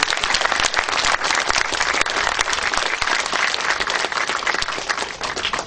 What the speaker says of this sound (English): I want to make sure while the room is full that we thank the speakers with the applause